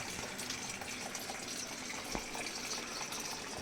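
A steady wash of running water, like a thin stream pouring from a cow-mouth spout in a Ganesh festival decoration, continuous and fairly soft throughout.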